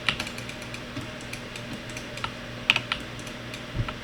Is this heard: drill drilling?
no